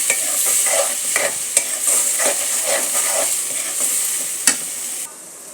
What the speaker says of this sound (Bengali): টমেটোগুলো লাড়াচাড়ি দিতেছি তারপরে সবজি দিলাম